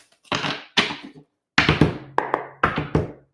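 Tarot cards riffle and slap together in several quick bursts, with short pauses between shuffles, close and crisp.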